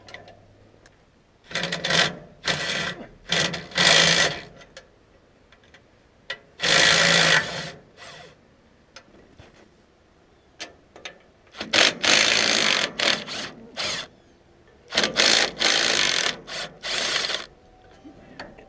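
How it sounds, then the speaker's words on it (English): Engine being unbolted from a Case 700 series garden tractor fitted with a 420cc engine, heard as repeated bursts of ratcheting power-tool whirring separated by quiet pauses, close and fairly loud, with no talk. "Now I just gotta unbolt the motor."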